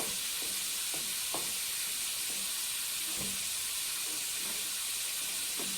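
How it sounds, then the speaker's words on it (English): Venison fat melting in a pot with a little water, giving a steady hiss and sizzle with scattered soft pops and crackles, close and continuous throughout. "basically you're just melting down fat"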